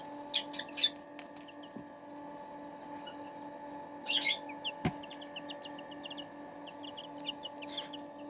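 Tiny Serama and Buff Brahma chicks give faint, scattered high peeps and short chirp bursts at a distance, over a steady low electrical hum in a quiet room.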